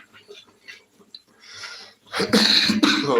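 A burst of harsh, loud coughing close by follows a stretch of quiet breathy sounds.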